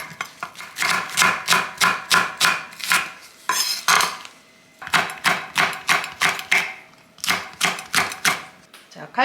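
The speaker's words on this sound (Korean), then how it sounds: "무는 좀 굵직굵직하게 썰을게요" A knife chops radish into thick chunks on a cutting board while preparing braised hairtail, in quick rhythmic bursts of sharp thuds with a couple of short pauses between runs.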